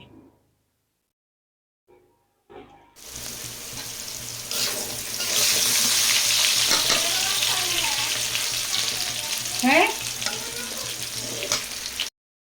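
Potatoes fry in a pan with oil, turmeric and salt; after near silence a strong close sizzle starts and holds steadily, with occasional stirring clatter.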